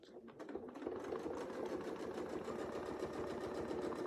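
A sewing machine runs continuously while stitching a wreath design, its needle clattering in a fast, steady rhythm after a few short starting stitches.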